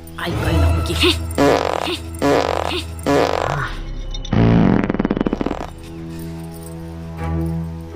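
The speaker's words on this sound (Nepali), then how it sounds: "एक बिहान अर्कालाई पिठ फर्काएर पादे" A series of loud, sputtering fart-like blasts comes in several bursts of varying length, close and prominent, in a comic Nepali drama scene.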